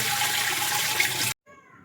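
Water gushes from a tap into laundry being washed at home, a steady, close rushing pour for about a second that cuts off abruptly, followed by faint dripping.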